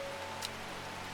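Steady, soft rain ambience from the game Strange Horticulture, an even hiss of falling rain with no voices over it.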